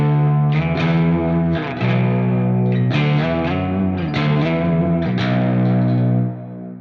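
An electric guitar in Drop B tuning plays heavily distorted power chords in a steady, rhythmic series of loud, droning strikes that ring out at the end.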